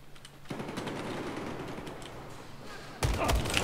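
Rapid automatic gunfire from a suppressed M416 rifle in Battlefield 4 rattles in continuous bursts, with a louder, sharper volley breaking in near the end.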